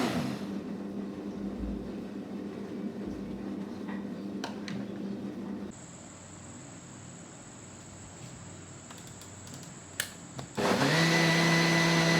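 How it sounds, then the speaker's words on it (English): A blender grinding batter for Kerala appam whirs steadily, then its motor stops and a high steady tone lingers before the blender roars back on, loud and close. "Now remove it from the blender"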